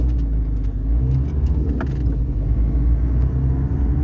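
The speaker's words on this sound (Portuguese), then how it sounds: "Olha um corcel 2 aqui na frente." A Ford Corcel II rolling past on a city street, heard as a steady close low engine rumble and road noise throughout, fairly loud with no talking.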